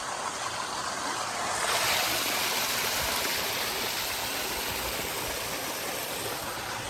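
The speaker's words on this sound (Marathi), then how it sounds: "पाण्याचा तुम्ही बघू शकता किती प्रेशर आहे." Water gushes out under strong pressure in a village, a loud, steady rushing hiss that holds unbroken throughout with no voices.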